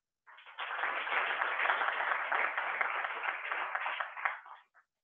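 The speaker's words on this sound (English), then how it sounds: "Thunderous applause in case you can't hear it." An audience at an astronomy talk claps steadily for several seconds, a dense wash of many hands applauding at moderate volume before fading out.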